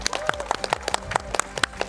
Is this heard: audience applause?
yes